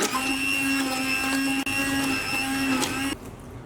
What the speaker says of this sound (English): using a stick mixer, we're just going to blend this until it's nice and fine